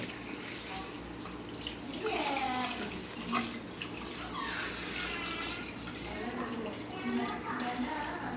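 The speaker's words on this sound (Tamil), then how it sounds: "தண்ணி ஊற்றுறது வந்து இப்போதைக்கு நான் வந்து ஒரு படி ஊற்றுறேன்." Water pours steadily into a pot while chicken biryani is prepared in a village home kitchen, a continuous soft splashing that stays faint.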